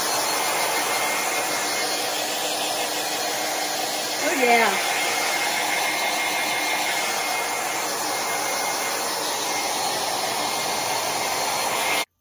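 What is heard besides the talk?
hair dryer drying Mod Podge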